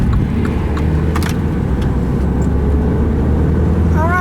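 A 2017 Mini Cooper S Clubman All4 pushed into a corner, with steady close engine and road noise throughout, a few brief clicks and a rising engine note at the end.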